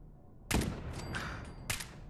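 Gunfire in Fallout 4 aimed at a pair of turrets, sounding as a sharp burst of shots followed by scattered cracks and a second loud blast near the end, close and fairly quiet overall, with no talking.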